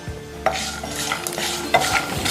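Urad dal, chana dal and peanuts roast in oil, a short close burst of stirring scrapes and light clinks of a spoon on the pan over a soft sizzle.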